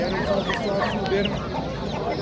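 Roosters and hens at a poultry market, dense overlapping clucking and squawking from many birds close by, with people talking underneath.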